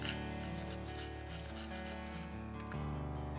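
Quietly scrubbing dirty Glock 23 Gen 4 pistol parts gives a faint, continuous brushing rub, low under a steady background.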